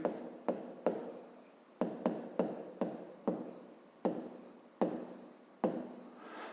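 A pen scratches on paper in short strokes while someone writes down a measurement for a fifth-grade geometry exercise, with about a dozen separate taps and scrapes, close and fairly quiet.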